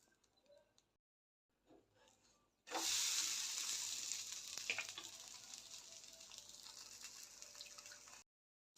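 An oats chila fries in a pan with a steady, bright sizzle that starts suddenly after a few soft clinks and stays even for about five seconds before cutting off.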